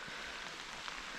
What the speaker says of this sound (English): the rain is on heavy today